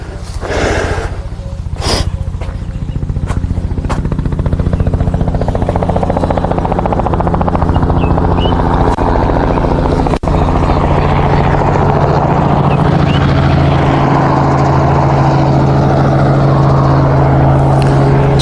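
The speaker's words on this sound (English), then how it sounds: "That chopper will be coming our direction" During a rhino rescue, a helicopter's rotor beat and engine drone swell steadily louder as it approaches, dominating the scene for nearly twenty seconds.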